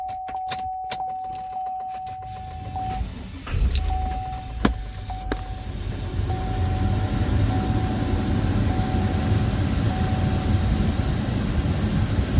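A Chevy Tahoe truck engine cranks and starts, preceded by a steady electronic chime, then settles into a loud, continuous low idle rumble that fills the remaining seconds.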